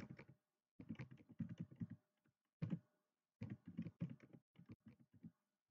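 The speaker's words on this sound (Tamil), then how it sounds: "உங்களுடைய மின்னஞ்சலும் டைப் பண்ணணும்." Someone types an email address on a computer keyboard in rapid bursts of close, crisp key clicks separated by short pauses.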